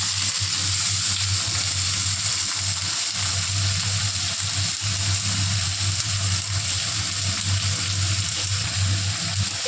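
Potatoes and green chillies fry in hot oil, giving a steady, dense sizzle that runs on without a break at close range.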